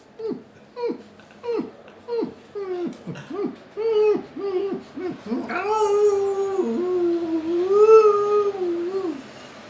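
A person imitates a dog with a voice, first giving a string of short yelping barks, then drawing out a long wavering howl that rises and falls, loud and close.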